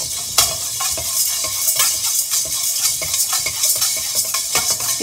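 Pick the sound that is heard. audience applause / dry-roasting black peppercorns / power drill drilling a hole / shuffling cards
dry-roasting black peppercorns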